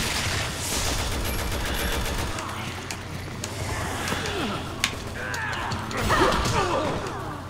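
Rapid bursts of gunfire at enemies in the video game Resident Evil 6, scattered sharp shots over a busy, rumbling game soundtrack, with a player's voice talking in between.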